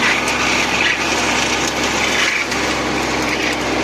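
A Mateng NEFL 95 mulcher runs continuously, shredding wood with a loud, dense, steady roar and grinding hiss, broken only by brief dips in intensity, close and without talk.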